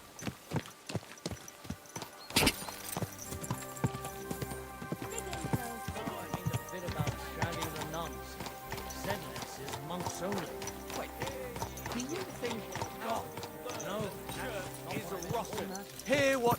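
Horse hooves clop in Kingdom Come Deliverance 2, with a steady, close rhythmic beat of hoofbeats running through the whole stretch while someone talks over it and other game sounds play underneath.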